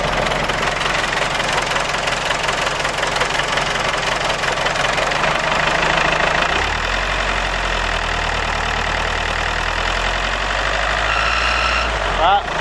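An Iveco Daily 35-8 van engine idles steadily with a slipping drive belt, a continuous rough mechanical drone with a squealing edge that deepens into a lower rumble partway through, close by and loud, with no speech.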